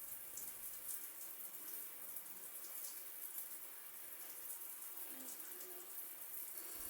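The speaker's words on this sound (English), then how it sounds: "This is the water pressure I received from the rainfall shower head." An 8-inch rainfall shower head sprays water in a steady, even hiss that runs close and fairly loud, unbroken for the whole stretch.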